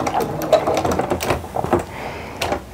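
Close sewing machine stitching on a small fabric mug rug, a continuous rapid chattering whirr with uneven pulses and some light clicks throughout.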